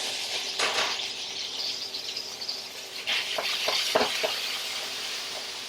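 Udon noodles frying in an oiled pan, a steady soft sizzle with a few stirring and scraping clicks near the end, no voices.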